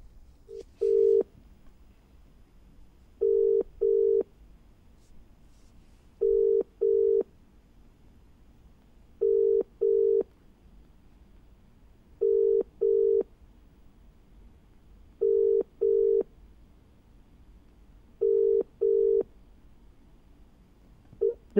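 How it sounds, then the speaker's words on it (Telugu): An unanswered telephone call rings back with a repeating ringback tone, paired short beeps recurring about every three seconds over roughly twenty seconds, clear and alone on a quiet line. "బీజేపీ సునీత లక్ష్మారెడ్డి గారికి కాల్ చేస్తున్నాం."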